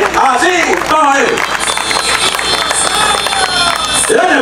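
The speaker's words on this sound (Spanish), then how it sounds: "fuerte el aplauso para los alumnos de quinto y sexto" Crowd applause for fifth- and sixth-grade students at a kindergarten and school parade during the San José fair, a busy outdoor wash of clapping and crowd noise under loud voices and shouting throughout.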